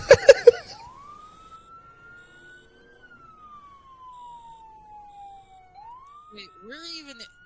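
A fire engine siren in a video game wails in one long rising and falling sweep, fading low and climbing again. A voice speaks briefly at the start and again near the end.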